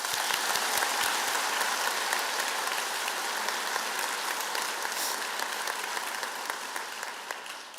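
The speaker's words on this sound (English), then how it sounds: "can we give them all a big round of applause?" Audience applauding at a Girls State inauguration, a dense sustained clapping from a large crowd that holds steady for several seconds and tapers slightly toward the end.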